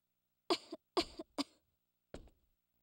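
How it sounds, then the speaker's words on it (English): A woman character in the video game Star Ocean 3 coughs: three quick, dry coughs in close succession, then a single softer cough after a short pause, each one near and clear against silence. "She sure was coughing a lot."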